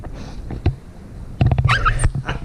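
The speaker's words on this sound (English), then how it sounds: "My dog Dobby showed up" A pet dog named Dobby gives a few short, high whimpers and yips up close indoors, with a brief whining burst in the middle and soft shuffling between.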